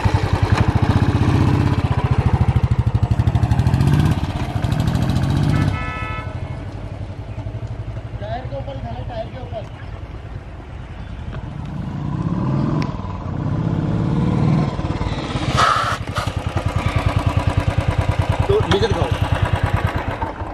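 A Royal Enfield motorcycle without ABS on a test ride, its engine thumping loud and close with revving swells and quieter stretches, while someone talks over it at times.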